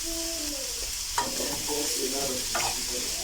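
Carrots sizzle steadily in a pan on the stove while a spoon stirs them, with a couple of sharper scraping strokes over the constant hiss.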